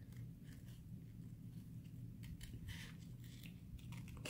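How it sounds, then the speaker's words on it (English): Scissors trim a paper planner sticker, quiet crisp snips in several short bursts close by against a low background hum. "So trimming down the sticker like right here."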